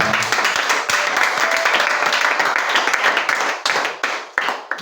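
An audience claps and cheers together in a hall, a loud, dense, sustained wash of applause that runs unbroken and eases slightly toward the end.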